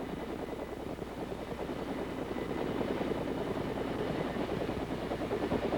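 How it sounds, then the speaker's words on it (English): An AH-1G Cobra gunship helicopter in flight, heard as a steady, continuous rotor and engine drone at even loudness throughout, with no voices. "helicopter will climb until the necessary throttle adjustment is made"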